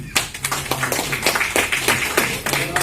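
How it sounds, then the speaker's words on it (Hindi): An indoor crowd at a Republic Day gathering of tehsil revenue staff claps for Yadunandan, producing a steady, moderately loud patter of many hands that keeps going throughout. "जोरदार ताली यदुनंदन के लिए"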